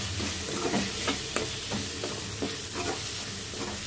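Two finely chopped tomatoes sizzle in a hot pan for gongura chicken, with a steady frying hiss broken by repeated scraping strokes of the stirring spoon.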